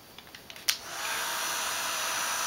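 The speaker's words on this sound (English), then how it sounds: "I am heat embossing them." A heat gun used for heat embossing, a few light clicks and a short knock, then a steady, close, loud blowing roar that holds evenly to the end.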